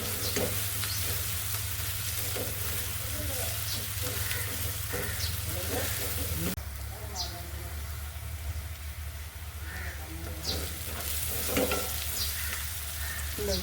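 Onion frying in a pan for moong masoor dal makes a steady, close sizzle broken by scraping stirs, with occasional voices in the background.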